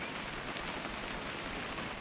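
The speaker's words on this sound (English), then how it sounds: "It's gonna rain the whole weekend, isn't it?" Steady, dense rainfall in What Remains of Edith Finch, an even, unbroken hiss of drops hitting surfaces that stays constant throughout, with no voices.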